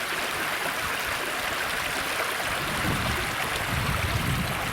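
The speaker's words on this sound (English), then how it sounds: "The brook flowing, just the sound is just so calm and soothing." A brook in Nottingham County Park flows steadily, a continuous broadband rush and trickle of water. It sounds close and even throughout, with no voices.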